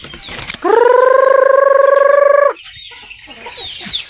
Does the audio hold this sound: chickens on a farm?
yes